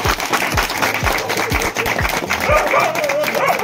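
Guests clap at a Nepali wedding reception as the bride is welcomed into her new home, with a few loose, spaced claps under steady crowd chatter and talking.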